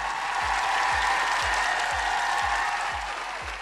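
Studio applause for a departing guest on a science program, a steady, even wash of clapping under a faint regular low thumping pulse.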